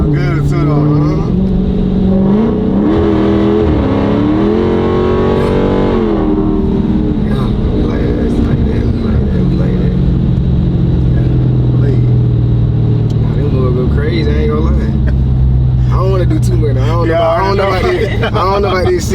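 A Dodge Redeye Hellcat engine drones and swells under acceleration while driving, heard from inside the car beneath ongoing conversation between the occupants.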